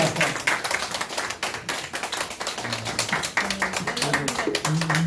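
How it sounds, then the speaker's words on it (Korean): A congregation claps during a Sunday church service, with close, crisp hand claps, some in quick rhythmic bursts, and faint voices mixed in underneath. "자 박수 한번 부탁드립니다"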